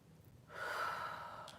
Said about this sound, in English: Just full breaths.